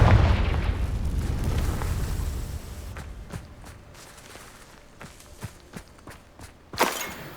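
A Confringo spell explosion in Hogwarts Legacy opens as a loud rumbling blast that fades over a few seconds, followed by scattered thumps and footsteps and a sharp burst near the end.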